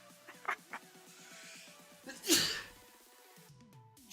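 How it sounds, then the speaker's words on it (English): A person nearby lets out one big, loud sneeze, a sharp burst with an inhaled build-up, heard over a quiet football management game with soft music and clicks, followed by short sniffling sounds. "those are mega sneezes"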